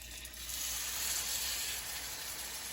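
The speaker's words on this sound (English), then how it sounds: "you should hear a sizzle when it goes in there" A ribeye steak sizzles loudly as it sears in a hot pan, a steady crackling hiss that holds throughout with no voices.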